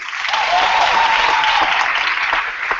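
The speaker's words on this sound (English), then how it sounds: "Let's give a round of applause for Syed Sadiq from IIUM" An audience at a debating grand final claps for the judging panel, a dense, even burst of applause that holds steady for a few seconds.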